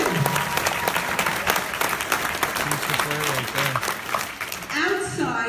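Live audience at a Toronto speaking event breaks into sustained applause that fills the room, dense and steady before tapering at the end, with a voice speaking over it at moments.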